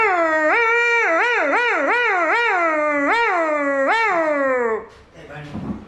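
A man vocally imitates a dog, producing a rapid run of about eight yelping, wavering bark-like cries at close range, ending with a brief noisy breath.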